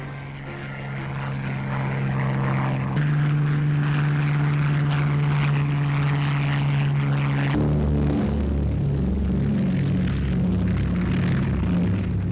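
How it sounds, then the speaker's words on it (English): Corsair and Barracuda wartime propeller planes take off from an aircraft carrier, loud engines roaring with droning tones that shift in pitch as aircraft pass and climb away, continuous and close with no voices. "Corsair and Barracuda planes roar into the sky."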